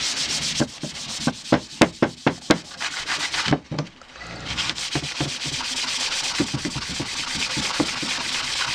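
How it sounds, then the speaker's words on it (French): A scooter exhaust pipe is rubbed with aluminium polish: a series of sharp, rhythmic scrubbing strokes at first, then a steadier run of rougher rubbing, close and loud, with no talking. "et on frotte"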